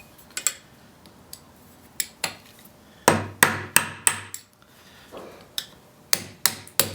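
A hammer drives a quarter-inch punch against the lock nut of an SM465 manual transmission, sharp metallic strikes in irregular clusters, some light taps and some heavy blows, close by with no talking.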